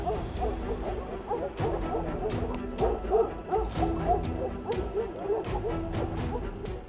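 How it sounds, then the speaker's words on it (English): A pack of dogs barking rapidly and repeatedly at a bear in the distance, the sharp yaps overlapping in a relentless chorus over a low rumbling background. "Their rapid barks build relentless pressure."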